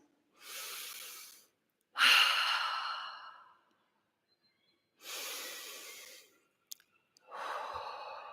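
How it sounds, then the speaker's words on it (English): Slow, deep, intentional breaths taken during a calm Sunday service, four long airy inhales and exhales separated by silent gaps, close and clear with no talk. "take 2 or 3 slow, deep, intentional breaths"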